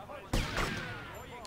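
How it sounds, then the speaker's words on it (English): A single sharp burst of gunfire in GTA Vice City during a rampage shoot-out, loud and close, followed by a brief decaying tail, with talk present. "I can hear shooting"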